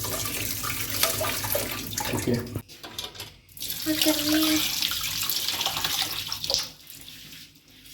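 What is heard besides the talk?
tap water running while washing peanuts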